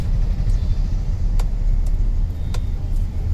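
A Kia Sonet with an iMT gearbox cruises in second gear, giving a constant close-up hum of engine and road noise inside the cabin, with a couple of faint clicks.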